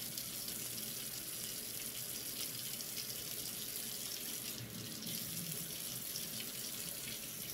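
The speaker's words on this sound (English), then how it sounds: "So if you rinse it off." Water runs steadily from a kitchen tap while something is rinsed under it, a constant close hiss and splash with no pauses and no talking.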